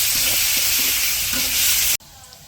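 Onions frying lightly in a pan give a steady, loud sizzle with soft stirring scrapes, cutting off abruptly near the end to a quiet kitchen background.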